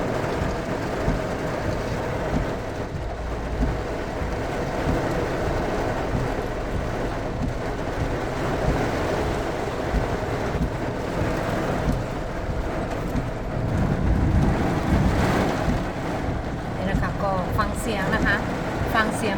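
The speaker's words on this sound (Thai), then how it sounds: "ก็ฝนเม็ดฝนนะคะกระทบบนหลังคารถนะคะ" Heavy storm wind roars continuously while rain drums on a car roof overhead, a dense, loud wash of noise with gusts rising and falling.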